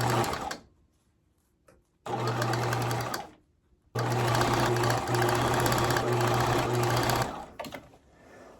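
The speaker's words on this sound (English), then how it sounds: "I sew this piece to the dress" A sewing machine stitches a piece onto a 1970s paisley dress. It runs in two bursts: a short one of about a second, then a longer steady whir of roughly three seconds. The motor hum is close and loud, with quiet pauses between.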